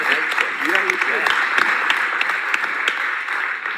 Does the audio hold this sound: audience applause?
yes